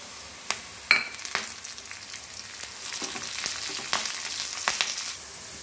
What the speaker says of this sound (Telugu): ఇప్పుడు కరివేపాకు వేసుకున్నాము.